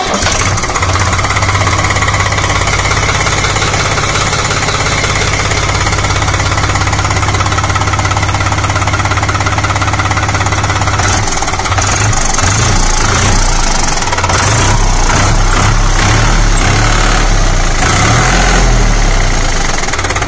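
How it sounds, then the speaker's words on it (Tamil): A 2021 New Holland 4710 tractor's diesel engine runs loudly and close by, a steady knocking idle with a deep throb that turns rougher and more uneven partway through, no voices present. "இந்த இன்ஜினை வந்து ஸ்டார்ட் பண்ணுறங்க சவுண்ட் எப்படி இருக்குன்றாங்க."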